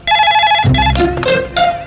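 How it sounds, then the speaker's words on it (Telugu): A telephone rings with bright electronic trills, then a low murmur of voices and handling noise cuts in beneath the ringing. "రింగ్ అవుతుందిరా"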